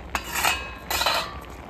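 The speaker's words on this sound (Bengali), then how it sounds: "এবারে চাপাটা খুলে নেব।" A metal lid lifted off a cooking pot of boiled potato and cauliflower, giving a few light metallic clinks and scrapes over a quiet background.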